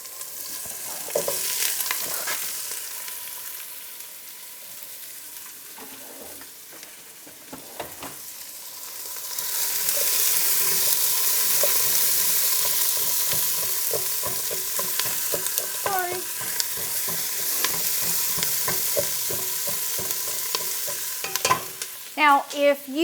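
Food browns in a pan for tomato sauce with a steady sizzle that swells louder partway through, while a utensil scrapes and stirs at intervals, ending in a few clinks against the pan.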